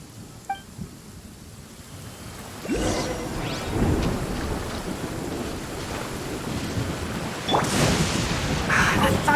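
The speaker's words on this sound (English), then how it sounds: "The thunder's so loud." Heavy rain hisses steadily through a Genshin Impact storm while thunder cracks and rolls loudly at intervals, one big boom near the start and another swelling toward the end.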